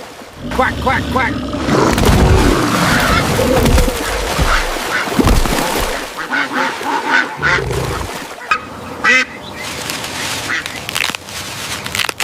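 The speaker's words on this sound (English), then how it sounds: "Quack, quack, quack." Ducks quack over and over on a farm, loud nasal calls in busy clusters mixed with other noise and rustling, with quieter gaps toward the end.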